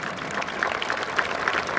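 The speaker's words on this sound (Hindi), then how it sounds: "जोरदार तालियां" An audience applauds a malkhamb gymnastics formation performed by soldiers at an outdoor event, dense continuous clapping, steady and fairly loud throughout.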